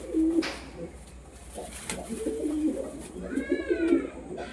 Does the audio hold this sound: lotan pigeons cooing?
yes